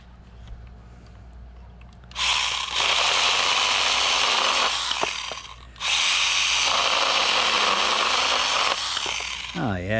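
Stihl GTA26 mini cordless chainsaw cutting through wood in two loud, sustained bursts of buzzing motor and chain, separated by a brief pause, with quiet handling before and after.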